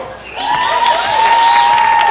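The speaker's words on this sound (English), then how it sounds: "let's do applause for LeLe Knits" An audience applauds fashion designers at a fashion show, a steady, fairly loud wash of clapping with a sustained whine ringing over it throughout.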